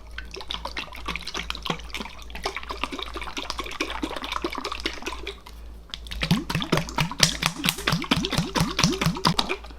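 Rapid, rhythmic sloshing of an Angelica dahurica oil mixture shaken side to side inside a lidded container, in two bursts with a brief pause between, close and fairly loud.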